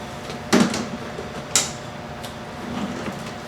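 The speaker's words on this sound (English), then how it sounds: "It all snaps in place." A hose and upholstery attachment snap onto a Rugged Pro ozone generator box. There are two distinct close plastic clicks, a louder one followed a second later by a sharper one, then a faint third tick in a quiet room.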